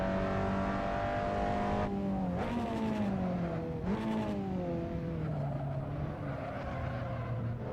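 A front-wheel-drive race car engine in a sim racing game revs steadily, pitch climbing and dropping through quick gear shifts, loud and continuous throughout with no talk.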